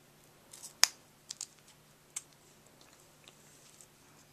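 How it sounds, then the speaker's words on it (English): Scissors snip through thick unmounted rubber stamp material with a few sharp, uneven clicks, one much louder than the rest, in a quiet room. "Sometimes it's so thick that the scissors don't want to work right at the tips."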